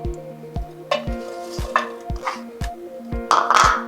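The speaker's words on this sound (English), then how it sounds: "Then we're gonna add in our mango" Mango pieces dropped into a skillet over medium-low heat, a soft sizzle with several distinct clinks and scrapes of a utensil against the pan, close and without speech.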